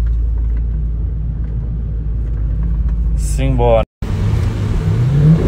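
Chevrolet Camaro engine rumbling low and steady while driving, with a brief higher rev near the end, under speech.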